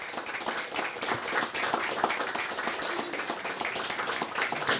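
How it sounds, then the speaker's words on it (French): An audience applauds at a management café talk on the place of the car in the city, with dense continuous clapping from many hands that stays steady and fairly loud throughout. "Donc vous pouvez vous applaudir."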